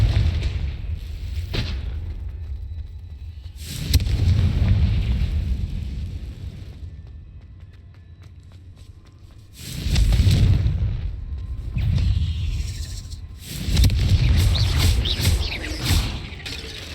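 Confringo blasting spells fired in the game Hogwarts Legacy, heard as several heavy booming explosions in bursts, each with a rumbling tail, separated by quieter gaps of background ambience.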